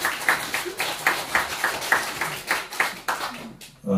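Audience at a poetry book concert clapping in a loose, steady patter of individual hand claps, moderately close, that stops abruptly near the end.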